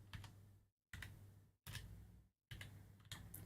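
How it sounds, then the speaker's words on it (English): Typing on a computer keyboard a little distance away, quiet bursts of clicks broken by short silences, no talking. "The keyboard's a bit further away."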